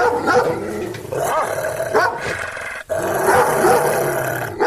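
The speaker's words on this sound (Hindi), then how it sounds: "उन पर भौंकने लगता है।" A dog barks and growls loudly in a Hindi horror story, close up: several rough, aggressive barks with growling between them, filling the whole stretch with one brief dip in the middle.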